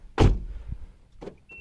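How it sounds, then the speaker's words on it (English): A Nissan Altima 2.5 S unlocks with a key fob: a sharp mechanical clunk of the door locks actuating, a smaller thump after, then a second softer actuator click, heard close with no talking. "And you just unlock the car."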